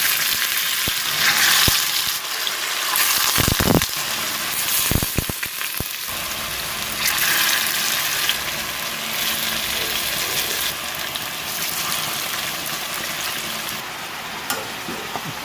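Chicken feet and tofu sizzle and crackle steadily in hot cooking oil, a loud, continuous frying hiss with scattered sharp pops and spatters near the start, no talking.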